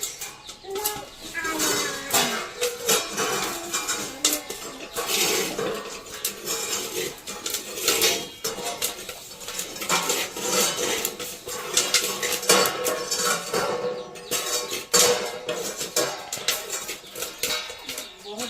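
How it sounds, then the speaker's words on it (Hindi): Dense crackling and sharp pops from kernels bursting in a hot pan, continuous and busy throughout, with some metallic clatter close by. "लावा का आवाज।"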